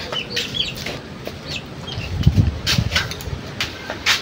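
Chickens cluck in short, scattered bursts from a backyard flock gathered for penning in the rain, fairly close and moderately loud over a steady background hiss.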